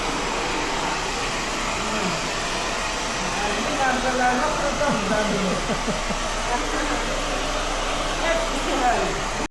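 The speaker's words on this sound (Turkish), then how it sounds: "hostel sahibim fön makinesiyle bir miktar kuruttu" A hair dryer runs steadily, drying damp clothes in a hostel on a cold day; a continuous close whirring blow with some clatter and faint voices underneath.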